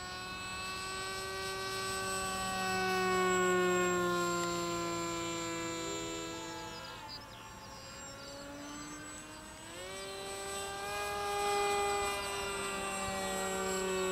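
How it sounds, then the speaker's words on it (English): An ice cream van's electronic chime melody drifts in from a distance, a steady tonal tune of sustained notes that rises and falls over about fourteen seconds against a low background hum. "I think the weird noise you can hear is the ice cream van."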